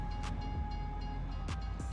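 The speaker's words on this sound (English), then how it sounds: "The train was already going along the road before the barrier came down." A train rolls along a road at a level crossing with a continuous low rumble and a sustained tonal hum, broken by a few sharp clacks.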